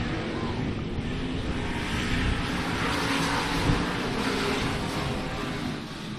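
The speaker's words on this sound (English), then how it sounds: "Lincoln Morris getting passed by multiple cars in turn 1 and 2" Several race cars roar through turns one and two on an oval track, a dense, steady engine drone with one car getting passed by multiple others, loud and continuous with no talk.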